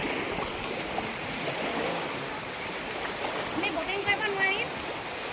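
Broad, steady wash of flowing water from the wide Brahmaputra river, continuous and fairly loud with small splashy ripples, heard alone without talk; rain is also falling at the riverside.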